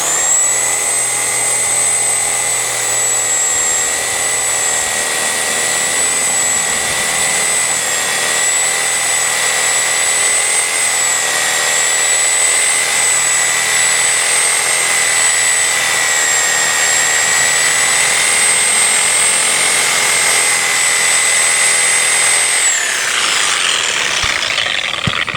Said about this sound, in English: I'm sawing with the blade.